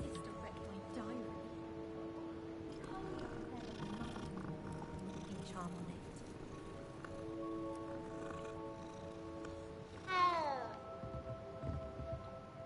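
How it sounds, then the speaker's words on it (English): Cat in the video game Hogwarts Legacy meows and purrs under steady game music, with soft repeated mews and a louder sharp meow near the end, a person talking now and then. "Oh, kitty."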